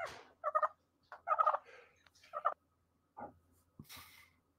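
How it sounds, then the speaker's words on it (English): Turkeys gobble in several rapid rattling bursts, fairly close and clear against quiet surroundings, with short pauses between calls. "Look at those turkeys. Gobble, gobble, gobble, gobble."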